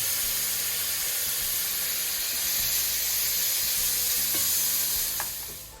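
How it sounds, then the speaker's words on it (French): Calf's liver sizzling loudly in a hot pan after being deglazed with raspberry vinegar, a dense, continuous hiss of steam and frying that fades slightly at the end. "Et maintenant vous déglacez avec du vinaigre de framboise."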